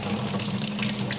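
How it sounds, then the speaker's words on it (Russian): Water pours steadily from a tap-like stream as a makeshift tropical shower onto people on a hot beach, a continuous close splashing rush with no talk. "Тропический душ."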